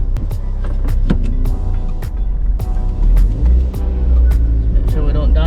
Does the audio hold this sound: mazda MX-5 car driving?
yes